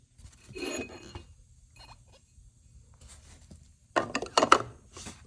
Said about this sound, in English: Put the glass in.